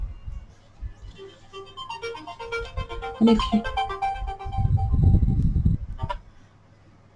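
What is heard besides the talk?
mobile phone ringing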